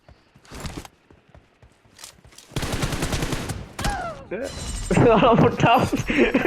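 Sniper and other gunfire in a video game, sharp scattered shots followed by dense bursts of rapid firing and impacts that grow louder toward the end, with someone talking over the action.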